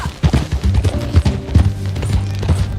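Horse hooves clip-clopping at a riding pace in the video game Red Dead Redemption 2, a quick uneven rhythm of hoofbeats up close with some background sound.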